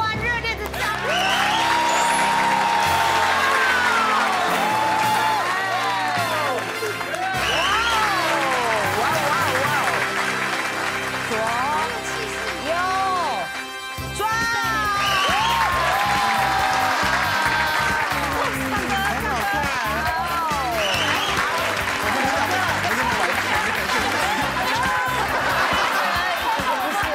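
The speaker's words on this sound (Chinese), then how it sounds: "热烈的掌声" A studio audience on a Taiwanese television talk show applauds loudly and steadily for the whole stretch, mixed with music and overlapping voices.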